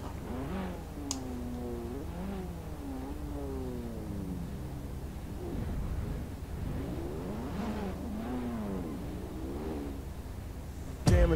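Turbocharged drift car engine in the racing game Assetto Corsa on the Ebisu touge course, revving up and down in repeated sweeping waves, a steady mechanical whine throughout.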